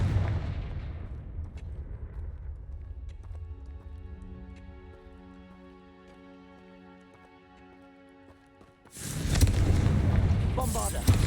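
Confringo blasting spell explosions in Hogwarts Legacy, a loud crackling burst at the start and another sudden heavy blast near the end, with a quieter tonal stretch of game sound between them.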